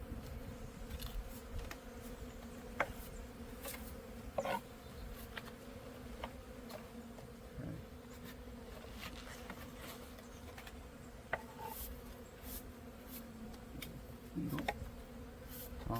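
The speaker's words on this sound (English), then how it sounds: "Brush these bees down." Honeybees in a backyard apiary hive, a steady dense buzzing hum close to a lifted frame, quiet overall, with occasional small clicks and taps from handling.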